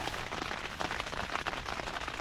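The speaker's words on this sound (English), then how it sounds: "I'm just inside my tent at the moment. It's still raining" Steady rain patters on a tent, heard from inside during a wild camp: a dense, even hiss of drops drumming on the fabric, close and continuous, with no talking.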